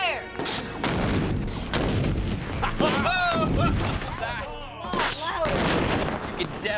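Ten pounds of ANFO explosive detonated outdoors, a heavy booming blast with rumbling debris and echoing crackles, voices talking over the aftermath.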